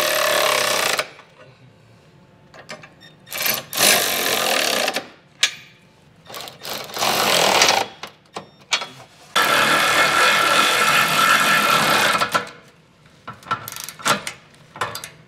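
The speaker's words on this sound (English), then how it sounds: "we're going to snug this down using a 3/4 inch socket" Ratchet driving a 3/4 inch socket to snug down bolts on a Curt trailer hitch receiver under a 2021 Chrysler Pacifica, several bursts of rapid clicking close by, separated by short pauses.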